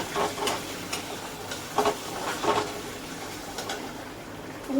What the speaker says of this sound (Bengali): ওই দিকটা আমি চিংড়া ভাজিটা বসাই দিচ্ছি